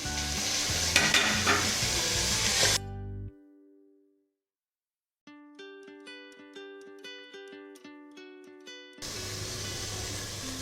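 Shallots and salt being sautéed and stirred in a pan for Kuttanadan duck roast, a steady close sizzle that cuts out partway through, leaving a gap with a short musical interlude, before the frying resumes.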